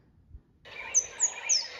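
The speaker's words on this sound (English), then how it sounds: "White-bellied" A white-bellied sunbird gives a run of thin, high chirps and trilling notes, starting suddenly and continuing close and clear, with no talk.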